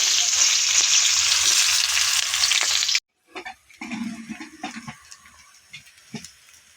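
Chopped onion hits hot oil seasoned with whole cardamom, giving a loud, dense sizzle for about three seconds that cuts off abruptly, followed by quieter intermittent stirring and scraping sounds.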